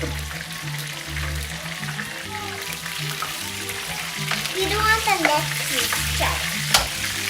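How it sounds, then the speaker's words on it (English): Steady sizzling and frying of a fresh corn tortilla in a pan with occasional scraping and stirring, under a low pulsing hum in the background. "there's nothing like a fresh corn tortilla on a frying pan"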